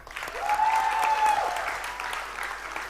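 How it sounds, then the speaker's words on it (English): A graduation audience breaks into applause, a brief, fairly faint burst of clapping that swells and then fades over a few seconds, with a sustained tone running through the middle. "Let's clap for ourselves"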